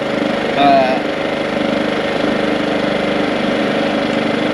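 A small portable generator, pull-started with the choke, idles in eco mode with a steady, loud, close mechanical chug and hum that holds even throughout, with a brief voice near the start.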